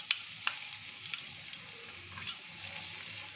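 Onions frying in ghee in a pan, a steady soft sizzle with a few sharp crackles and clicks near the start, heard close and alone at low level.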